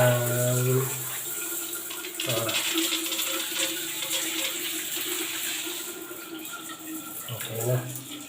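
Water runs from a newly plumbed shower head, a continuous hissing spray at moderate distance, with faint mechanical clunks and brief background voices around it.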